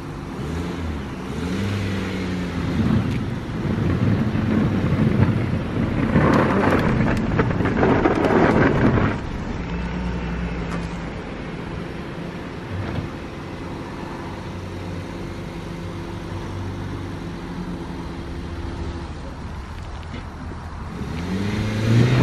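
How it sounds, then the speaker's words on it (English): A car is driven off a driveway in worsening weather, its engine straining and revving under a loud rumble that eases after several seconds into a steady low drone. "I'm going to try and get my car off the drive before it gets any worse"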